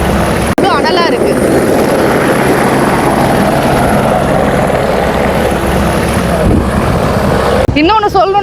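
A helicopter roars loudly and close by, a steady thumping whir throughout, with brief voices heard near the start and end.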